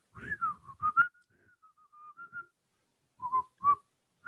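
A person whistling by pinching the lip, producing breathy, wavering high notes in short phrases with a few gaps, close and alone.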